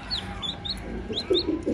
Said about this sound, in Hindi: देखिए व्यूअर्स बच्चा निकल आया है मुर्गी का